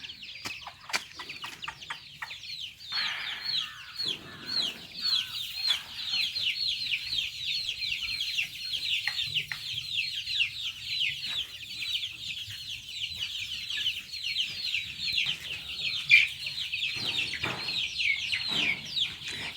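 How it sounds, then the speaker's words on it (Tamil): A flock of two-week-old native country chicken chicks raised in a coconut grove gives constant high, overlapping peeping, with a few soft clucks and a brief knock, heard close and continuous. "இது வந்து ரெண்டு வாரம் குஞ்சு ரெண்டு வாரம் ஆச்சு"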